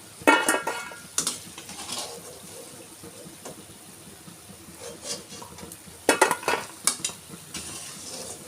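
Jowar flour punugulu fritters fry in hot oil until golden, a low steady sizzle running underneath several sharp scraping bursts from a ladle or spoon against the pan.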